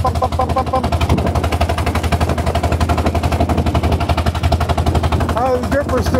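A 1906 Sizaire-Naudin voiturette engine fitted with new gears thumps up a hill in a loud, rapid, steady chugging close by, with voices speaking faintly beneath it.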